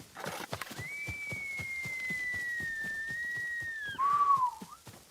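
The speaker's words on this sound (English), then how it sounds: "My weak ass whistle." A character whistling in the Ghost of Tsushima video game: a long sustained tone that ends in a short falling note, heard over rhythmic clip-clop hoofbeats of a horse, with faint game ambience and no talk.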